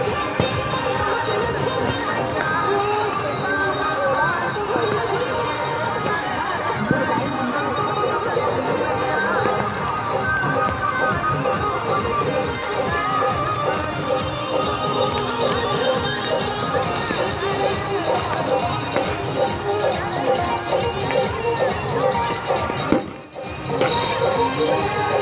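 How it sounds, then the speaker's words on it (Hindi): A large crowd of Chhath devotees fills the banks of the Kamla river at Jaynagar during the evening offering, a dense continuous roar of voices and chatter, with a voice talking over it. "कमला नदी के दोनों ओर देख सकते हैं कि छठ व्रतियों का कितना भीड़ है"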